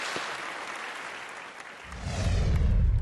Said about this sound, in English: Please give a round of applause to all the panelists here.